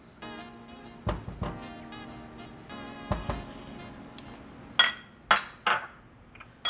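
Oyster sauce being scooped into a sauce bowl while making egg foo young, heard as a string of close clinks and taps of a spoon against the dish, with several sharper knocks toward the end and no talk.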